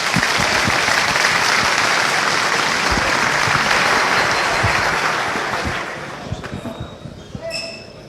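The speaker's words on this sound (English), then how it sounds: "Please give him a round of applause." A conference audience at FOSDEM 2016 claps loudly and steadily for several seconds, then the applause thins out and fades into scattered claps and room noise.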